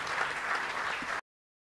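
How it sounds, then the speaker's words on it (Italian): A theatre audience applauds at a public event, a brief burst of dense clapping that cuts off abruptly after about a second. "applauso anche a loro."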